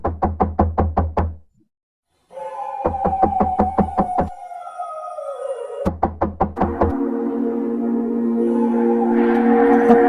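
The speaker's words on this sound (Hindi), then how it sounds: "ठक ठक की आवाजें आती है, जैसे कोई अब भी दरवाजा पीट रहा हो" Loud, rapid knocking on a door comes in three separate bursts of sharp, evenly spaced raps with pauses between them, and sustained tonal sounds rise underneath the later bursts.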